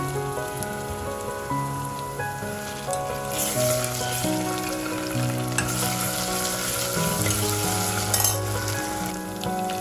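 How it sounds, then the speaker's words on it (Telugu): Browned onions fry in hot oil with ginger garlic paste for a mutton and cucumber curry, making a continuous crackling sizzle with stirring, close and fairly loud under soft background music. "ఉల్లిగడ్డలు కొంచెం బ్రౌన్ కలర్కి వచ్చిన తర్వాత ఇందులోనే అల్లం వెల్లుల్లి పేస్ట్"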